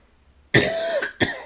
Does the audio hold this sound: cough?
yes